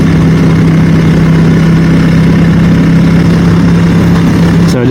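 A motorcycle with a Akrapovic exhaust, baffle removed, idles steadily with a low, constant rumble and a droning hum, loud and close, before a brief rustle at the very end.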